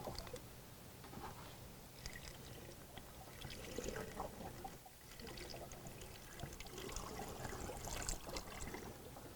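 Diesel exhaust fluid poured in a steady, gurgling stream into a Sprinter van's tank, with trickling and splashing that varies slightly over several seconds, fairly quiet.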